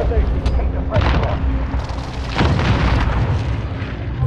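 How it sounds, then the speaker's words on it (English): Enemy precision airstrike explosions hit in Call of Duty: Modern Warfare battle royale, a loud, dense run of rumbling booms and blasts that overlap into a continuous roar, swelling again near the middle. "Enemy precision airstrike."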